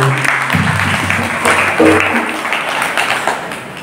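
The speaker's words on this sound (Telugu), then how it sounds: "ఇంకోసారి చప్పట్లు కొట్టండి." Audience clapping at a 25th anniversary celebration of a priest's ordination in a parish gathering, a brief burst of applause over a low hum that fades after a few seconds.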